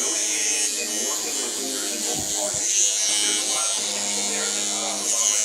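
An electric toothbrush buzzes steadily and close by beside a big black cat, a continuous motorized hum that shifts slightly in pitch, with people talking over it.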